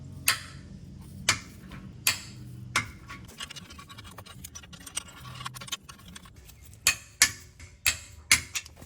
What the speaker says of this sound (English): I'm going to go ahead and get my torque wrench out and torque these down